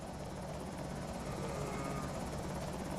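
A helicopter in the Project Zomboid video game hovers overhead, its deep rotor chop and engine drone loud and constant throughout.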